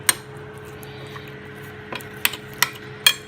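Spoon clinks against a dish while chicken casserole mix is stirred with water, giving a few sharp, close metallic taps in an irregular rhythm after a quiet stretch.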